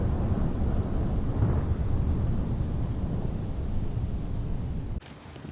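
A long, deep rumble of thunder rolls on and on during a lightning storm on a bikepacking trip, loud and low, then cuts off abruptly near the end.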